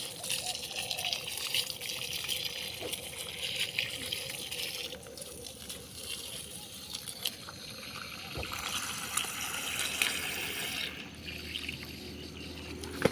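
Water running in a backyard, a continuous trickling and gushing stream like a tap or hose pouring steadily for the whole stretch, with faint scattered splashes.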